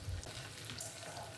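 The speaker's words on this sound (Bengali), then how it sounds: "এই ফোড়নগুলো ভাজা হয়ে গেছে।" Whole cardamom, cinnamon and cumin seeds sizzle in hot oil as a tempering for a spicy meat curry, a soft, steady crackle close by with no talking.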